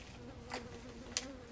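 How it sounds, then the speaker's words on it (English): A housefly sits on a microphone, giving a faint, steady close buzz that carries through the whole clip, marked by two brief sharper clicks. "All the buzzing sounds are just the fly."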